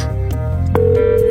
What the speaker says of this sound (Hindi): प्लीज मेरा फोन उठा लो